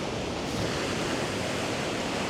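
Ocean waves wash onto a beach at sunrise, a steady broad roar of surf with no breaks in it, loud and close, with no voices.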